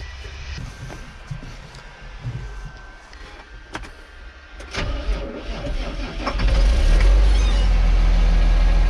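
A tractor engine starting with difficulty: cranking clicks and rattles build through several seconds before the engine catches into a loud, deep, steady running rumble close by.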